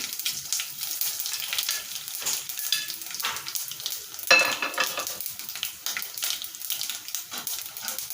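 Cumin, mustard seeds and dried chillies crackle and sizzle in hot oil for a Telugu gongura pappu tempering, a busy spitting hiss with bursts and pops that swell and ease, loudest in a sharp flare midway.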